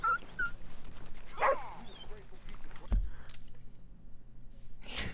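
A dog in a video game gives a few short barks and yips mixed with other game noises, moderately loud, while people talk and laugh over it.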